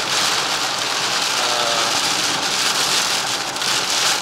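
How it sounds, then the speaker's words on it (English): Heavy rain pours down during a storm and collects on the road, a dense, loud, unbroken hiss of falling water that fills the whole stretch with no voices. "it's just heavy rain, not strong winds"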